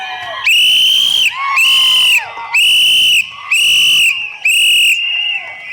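A crowd at a TVK political rally in Viluppuram blows whistles in five loud, shrill blasts, each lasting under a second, with short gaps between them and faint shouting underneath.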